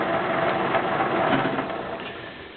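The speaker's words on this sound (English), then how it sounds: "I mounted the drill bit in my old lathe, put it in back gear so it turns super slow" An old lathe turns very slowly in back gear with a drill bit mounted in it, giving a steady, fairly loud mechanical whir and hum that eases off slightly toward the end.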